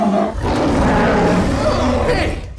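Chewbacca's voice, assembled from animal sounds including a seal, comes through as a loud, close, continuous growling roar with wavering moan-like pitch shifts, lasting about two and a half seconds.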